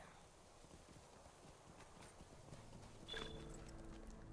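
War steed hooves clip-clop in a video game, a faint rapid patter of hoofbeats continuing steadily through the stretch with no talk.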